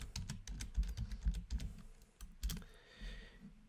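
Fingers type quickly on a computer keyboard to rename a folder, close and quiet, in brisk bursts of clicking keystrokes with a short pause before a final flurry.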